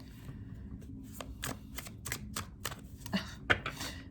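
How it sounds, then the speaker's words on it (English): A tarot deck is shuffled by hand, giving a string of crisp card slaps and riffles in an irregular rhythm, fairly close and moderately loud, with no talk over them. "They love to tell me to shuffle like this."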